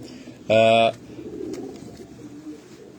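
Domestic flying pigeons kept on a rooftop give one brief, loud coo, with speech and rooftop background murmur around it.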